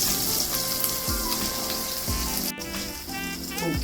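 Sausages and bacon sizzling in a frying pan, a steady close crackle and hiss with faint clatter, no voices.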